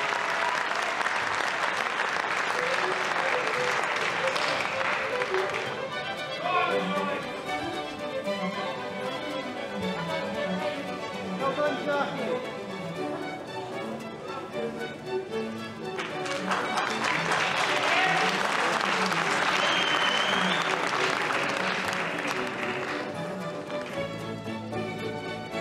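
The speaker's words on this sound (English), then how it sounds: "A round of applause for our leading finalists." An audience applauds for the leading finalists at the NABBA Universe 1998 Miss Physique presentation ceremony, a sustained roar of clapping that swells again near the end, with an announcer's voice over it.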